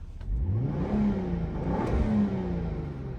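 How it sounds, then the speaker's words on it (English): A 2014 Volvo XC70 with a turbocharged engine of about 300 horsepower revs up twice in quick succession, the engine note rising and falling close by, with a faint turbo blow-off at the end. "you can even hear the little blow-off noise it makes when you rev it up"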